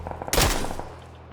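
A single sharp gunshot in the video game PUBG, a sudden loud crack with a short, decaying tail over faint background game sound.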